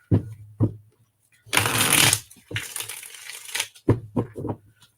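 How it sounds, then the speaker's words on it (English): A deck of cards is shuffled during a live reading session, giving a couple of crisp riffling bursts between soft taps and handling clicks, close and moderately loud with no talk over it. "Get a couple shuffles in here."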